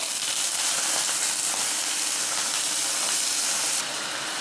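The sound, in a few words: potatoes added to hot oil with fried cumin, sizzling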